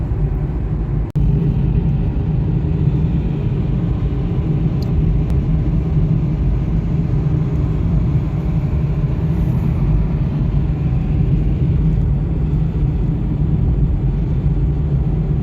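Steady low road rumble from a car cruising along a long highway stretch on a trip toward Siberia, continuous and loud throughout with no talk.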